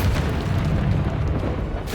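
A Confringo fire spell explodes in the Hogwarts Legacy video game during a boss fight, producing a loud, sustained rumbling boom with heavy low-end roar that carries on for about two seconds, no voice over it.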